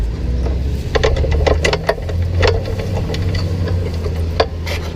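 Heavy machinery works nearby on a windy hillside, with a continuous low engine rumble under gusty wind and a run of sharp clanks and knocks in the first half.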